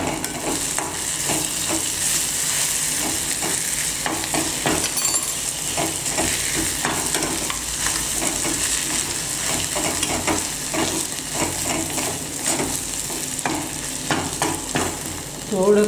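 Chopped onion with turmeric fries in oil in a pan, loud close sizzling and crackling with frequent scraping and clinking of a spoon as it is stirred steadily throughout.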